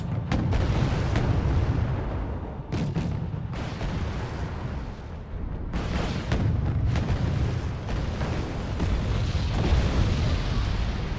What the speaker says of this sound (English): Looks like my first artillery shot did a number on that Tan-Sam